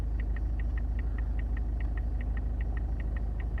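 A car engine rumbles low and steady with a regular knocking pulse and shaking, close and continuous with no talking, during a clutch start on an uphill slope.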